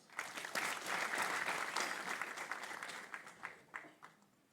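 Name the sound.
graduates clapping at a graduation ceremony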